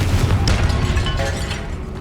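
A Confringo fire spell explodes in the Hogwarts Legacy video game, a loud low boom with a rumbling tail that carries on through the whole moment, joined by faint crackles and a brief bright ping, with no talking.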